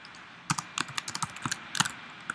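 Brisk typing of code on a computer keyboard, a quick irregular run of crisp, close key clicks with short pauses and a louder clack near the end, no voices.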